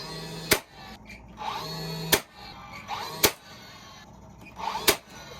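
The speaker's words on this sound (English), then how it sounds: "Got my trusty old nailer again, with the 6-amp big boy battery on it" A battery-powered nail gun fitted with a 6-amp battery fires four sharp, loud cracks into a board, spaced about a second apart, each followed by a brief whirring recharge of the drive mechanism.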